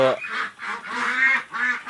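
Pekin ducks on a village farm calling in a series of nasal, honking quacks, fairly close and steady, with short pauses between bursts.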